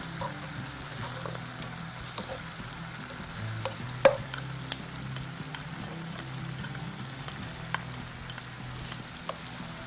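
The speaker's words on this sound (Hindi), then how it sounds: "ये घी है इसको मैं मिक्स कर रही हूँ" Ghee being stirred into baingan bharta in a pan gives a steady frying sizzle with soft scraping strokes and one sharper clink partway through, no talking.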